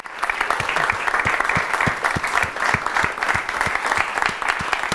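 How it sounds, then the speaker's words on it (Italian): Sustained audience applause at an anniversary celebration for a record label, dense and steady clapping filling the room for the whole stretch, loud and continuous with no voices over it. "Un bel applauso per Mariss Lakstigala, Muriel Chemin."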